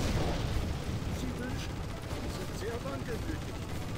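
Rapid bursts of gunfire and explosions from the real-time strategy game C&C Generals Zero Hour, a steady dense crackle of battle running throughout at moderate loudness with no talk over it.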